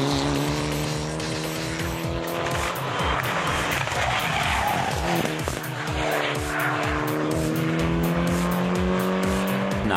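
A Škoda Fabia S2000 rally car races hard, its engine revving loudly and continuously with repeated gear changes and tire squeal, heard close up and alone for the full stretch.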